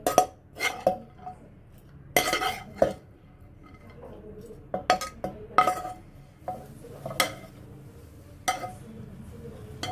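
Sharp metallic clinks and scrapes of a spoon against a mixer-grinder jar come in irregular bursts, close by, with quiet pauses between them, as food is spooned in.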